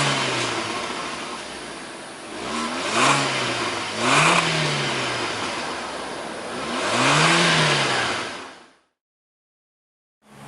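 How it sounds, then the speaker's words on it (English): A 2018 Kia Picanto GT Line with a 1.25-liter naturally aspirated four-cylinder engine is revved in three distinct rising and falling bursts over a steady idle, loud and close, then cut off abruptly. "let's rev the Picanto and hear that 4-cylinder roar"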